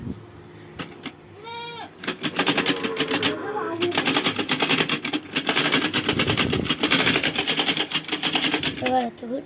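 An old, rusty sewing machine runs with a busy, rattling mechanical clatter that grows loud and continuous after a quiet start, while voices talk around it and a goat-like bleat comes through briefly.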